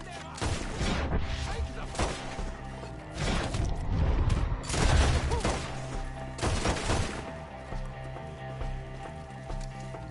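Gunfire in the video game Red Dead Redemption 2, scattered sharp shots and bursts amid clattering, horse hooves and general commotion, loud and busy with shouting voices mixed in.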